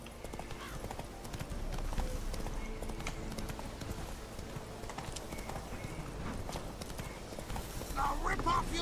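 Roach, the horse in The Witcher 3, gallops with a rapid, steady clip-clop of hooves close by, and a voice speaks over the hoofbeats in places.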